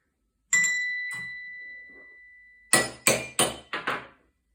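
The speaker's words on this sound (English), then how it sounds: "the bell and the xylophone" Two clear ringing bell strikes with a lingering tone, then five quick bright xylophone notes in a descending run, close and distinct.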